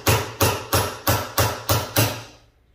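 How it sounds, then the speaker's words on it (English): A small ball peen hammer taps seven times in a steady rhythm against the bent side of a snowblower chute held on a vise corner, each metallic strike close and ringing briefly before the last one fades. "take a small ball peen hammer and just hammer it out lightly"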